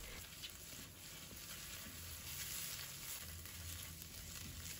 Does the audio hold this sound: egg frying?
yes